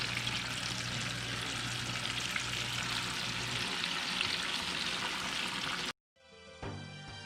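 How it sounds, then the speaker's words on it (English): Dense, steady bubbling and crackling of chicken tenders deep frying in oil, broken off near the end by a brief quiet moment and a different sound. "while the chicken's frying"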